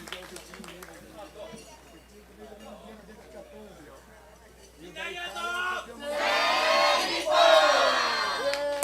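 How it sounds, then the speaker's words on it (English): Crowd at the ISA World Junior Surfing Championship cheering and clapping for Team Japan, starting with scattered voices and swelling into loud, dense applause and shouting in the second half. "Let's have a big round of applause for Team Japan."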